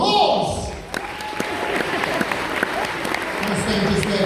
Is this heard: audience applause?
yes